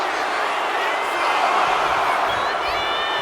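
Dense wrestling arena crowd noise roars steadily throughout, swelling slightly midway, with excited cheers and whoops rising above the broad din.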